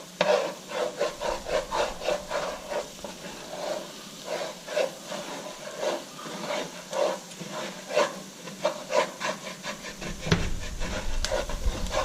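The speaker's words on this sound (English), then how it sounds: "Anything that sticks, you scrape it off of there real quick like." A utensil scrapes stuck bits of venison off the bottom of a cooking pan in repeated rhythmic strokes, close by over a soft sizzling hiss that grows louder near the end.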